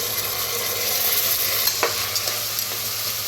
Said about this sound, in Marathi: जरा 1 मिनिट बरं भाजावूया, जास्त नाही असं मिक्स करूया बस।